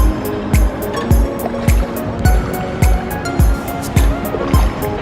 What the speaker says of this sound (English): So we're still going down the biggest river cave that I've ever seen in my life